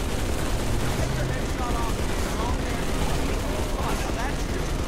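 Dense gunfire from the video game Halo 3, played in co-op: a continuous loud wash of shots and battle noise with faint voices mixed in.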